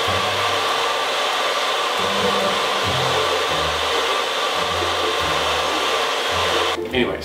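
A Babyliss Pro Ceramix Xtreme hair dryer runs continuously with a steady airy whir, close and loud, with low thumps underneath and a brief change near the end.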